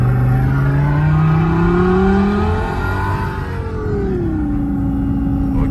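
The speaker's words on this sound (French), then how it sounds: "Là je vais accélérer." Renault Clio 4 engine accelerating loudly and close, its pitch climbing, then dipping at a gear change before pulling steadily again.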